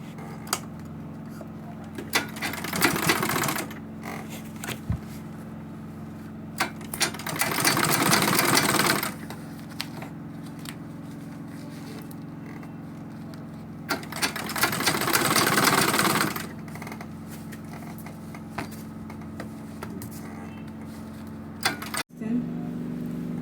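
A sewing machine top stitching a bag runs in three separate bursts of rapid buzzing stitches, each a few seconds long, between quieter pauses with faint handling clicks and a steady background hum.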